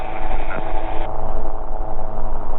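A gyrocopter engine roars at full power during a soft-field takeoff, a loud steady drone with a strong low rumble and a shift in pitch partway through.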